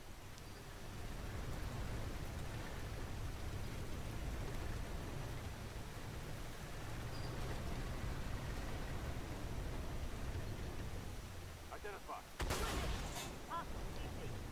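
A tank cannon fires once near the end of an Armored Warfare battle, a sharp, loud blast that breaks through a steady rumbling, noisy background.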